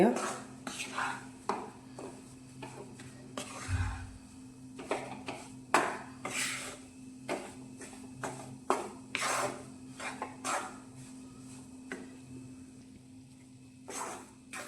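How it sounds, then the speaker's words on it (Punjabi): Wheat flour is roasted in a pan while being stirred continuously for sweet flour pinni, producing repeated scraping and rubbing strokes of a spoon against the pan, close by, with a faint low hum and some quiet speech. "ਲਗਾਤਾਰ ਹਿਲਾਉਂਦੇ ਹੋਏ ਇਦਾਂ ਆਪਾਂ ਭੁੰਨੇ ਜਾਣਾ"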